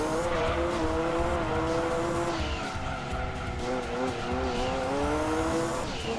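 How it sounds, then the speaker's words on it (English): Car tyres squeal in Gran Turismo 2, a racing video game, with a sustained wavering screech over a droning engine, loud and continuous, briefly easing before squealing again. "We are shredding these tyres"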